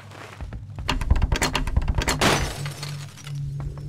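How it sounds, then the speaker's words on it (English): Glass shattering in the Cry of Fear horror game, a burst of sharp crashing and breaking with scattered clinks and thuds over a couple of seconds, fairly loud and close, with no voices. "Someone broke some glass."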